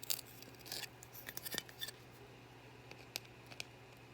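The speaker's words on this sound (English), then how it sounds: "Trim the fingers down." Scissors or snips clip through the gold-plated fingers of a scrap circuit board, giving a few sharp, close cuts and small crunches with quiet pauses between them.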